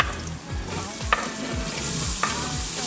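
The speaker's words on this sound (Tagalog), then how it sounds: "Una mga Mars ay magigisa tayo ng sibuyas." Onions sauté in a pan with a steady sizzle. Repeated stirring strokes swish through it, and two sharp utensil clicks stand out.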